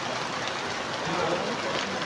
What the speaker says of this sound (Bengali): দেখুন প্রচুর বৃষ্টি হচ্ছে